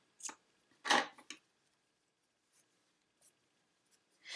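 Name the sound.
scissors cutting blue yarn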